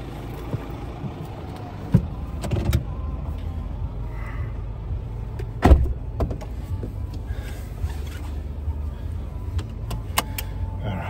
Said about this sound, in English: I don't mind driving around this place,